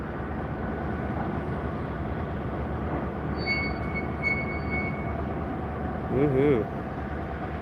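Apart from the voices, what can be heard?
train passing, CSX or Union Pacific locomotive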